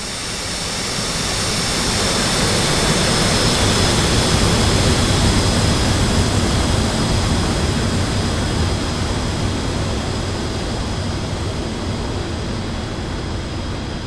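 Jet aircraft taxiing in the DCS World flight simulator, a loud, steady engine roar with a high whine that swells over the first seconds and then holds constant, with no voices.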